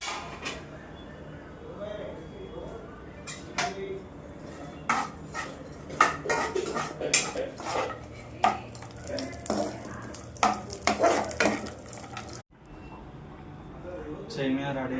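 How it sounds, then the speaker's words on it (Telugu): A spoon stirs semiya around a pot, giving irregular scraping clinks and knocks against the metal that come close and clear in uneven bursts before a short pause near the end. "సో అడుగంటకుండా ఉండాలంటే తిప్పుతూ ఉండాలి."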